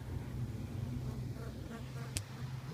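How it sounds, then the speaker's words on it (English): A busy colony of honeybees hums inside a top bar beehive, a faint steady close drone with one sharp click partway through. "A lot of bees."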